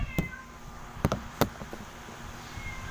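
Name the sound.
cat meowing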